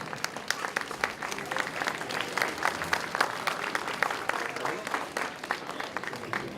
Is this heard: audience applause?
yes